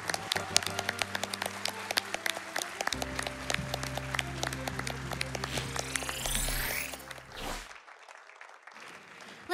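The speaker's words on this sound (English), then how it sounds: "just give one more round of applause" Audience applause at a live speedrun marathon event after a Super Castlevania IV run, steady dense clapping from a crowd over several seconds, fading out near the end.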